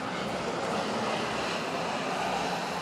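A large airplane approaching to land, heard as a steady, loud broadband engine roar that holds unbroken for the whole stretch without any voices.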